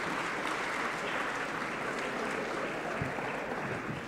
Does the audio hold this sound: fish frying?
no